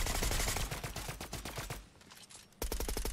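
Gunfire in Fortnite during a duo zero build competitive match: rapid, dense bursts of automatic shots, loud and close, with a brief lull before another burst resumes.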